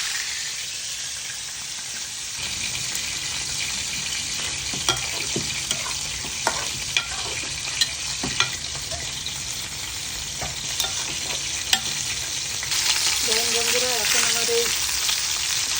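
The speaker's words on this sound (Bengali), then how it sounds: "প্রথমে চিকেনটা এই পাশে ভাজতেছে" Chicken legs frying in a pan of hot oil give a steady, loud sizzle throughout, with occasional sharp pops and utensil taps over the hiss.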